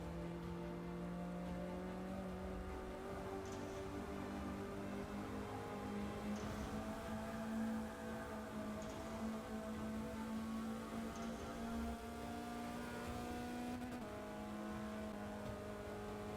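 Mazda Miata race car engine in Forza Motorsport 6, a steady droning rumble holding a sustained tone with slight pitch shifts as it drives through a lap, continuous and fairly even without talk.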